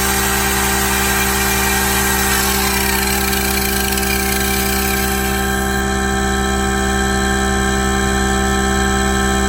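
An electric grinder drawing about 650 watts from a solar battery system runs loud and continuous with a steady motor drone and whine throughout, without talk.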